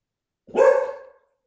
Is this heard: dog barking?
yes